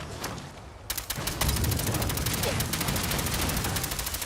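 Rapid bursts of gunfire in Fallout 4's Far Harbor expansion, loud and dense, with an automatic-weapon rattle that sets in after about a second and runs steadily to the end under a busy game soundscape.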